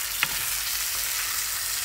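Chicken curry fries in a pan with a dense, constant sizzle, close and steady, broken by one soft knock of a utensil stirring early on, and no voices.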